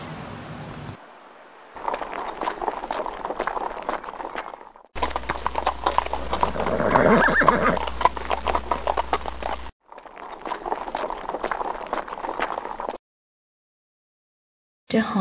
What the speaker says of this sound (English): The horse came close to Gulliver, looking at face and course with great interest.